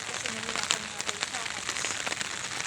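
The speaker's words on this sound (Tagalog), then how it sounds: "Laka na din na ulan, no?" Heavy rain pours steadily during a walk downhill in Tagaytay City, a dense close hiss with scattered drop impacts throughout, and a voice talks briefly over it.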